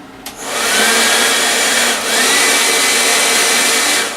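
A cheap hair dryer used as the blower for a scrap-built coal forge switches on and blows with a loud, steady whooshing whir, its pitch dipping briefly midway before holding constant.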